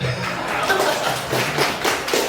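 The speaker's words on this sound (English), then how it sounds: "Go ahead, you can clap." An audience at a political rally claps for a candidate, scattered hands striking in an uneven, moderately loud patter with a few distinct sharp claps over a couple of seconds.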